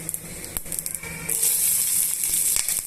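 Chopped onions and green chillies sizzle steadily in hot oil for bhindi fry, a bright continuous hiss that swells louder partway through as the pan is stirred.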